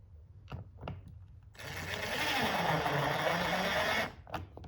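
A power driver runs screws into a plastic pond boat, a steady mechanical whir lasting a few seconds, with faint speech before and after.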